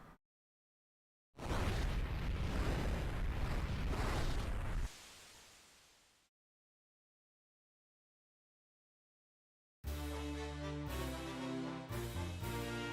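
A Fire spell cast in Final Fantasy IV: a loud burst of crackling, roaring noise that holds for a few seconds then tails off into silence, followed after a pause by a bright rhythmic musical jingle.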